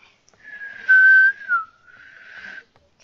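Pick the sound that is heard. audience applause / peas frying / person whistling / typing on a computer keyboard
person whistling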